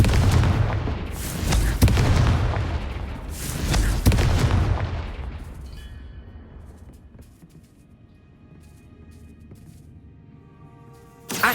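Confringo blasting spell explosions in Hogwarts Legacy, two loud booming blasts with rumbling tails in the first few seconds, then a quieter stretch of faint game ambience and a sudden sharp hit at the end.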